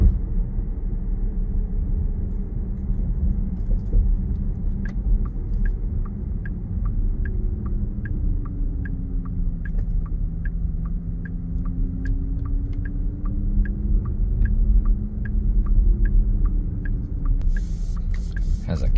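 A 2025 Porsche Macan Electric Turbo drives along a road, a steady low road and tire rumble inside the cabin with a faint electric hum and a regular ticking, like a turn signal.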